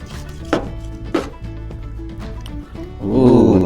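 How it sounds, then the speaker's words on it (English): A knife slices crispy ahi katsu on a cutting board, giving two crunchy cuts close by, then a louder crackling stroke at the end. "Let's give it a slice."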